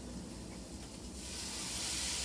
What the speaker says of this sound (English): see here where it's sizzling up in the pan